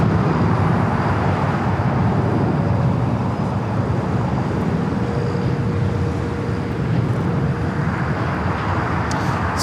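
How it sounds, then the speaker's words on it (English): A Freedom 1 airliner on its takeoff roll from LAX runway 24 left, a broad sustained jet roar heard from a distance, steady and unbroken for the whole stretch. "That is Freedom 1 taking off 24 left to San Jose, California, flight 1652."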